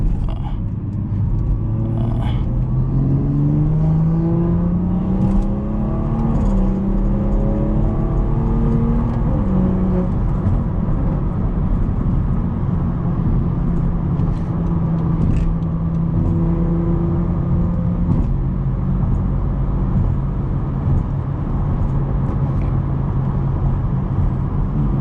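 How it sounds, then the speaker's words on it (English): A 500 hp BMW 440i in sport mode accelerates on a highway, heard from inside the cabin. Its engine rises in pitch through repeated gear changes over a steady low road rumble, with no talking. "God, it's so fun just driving this car"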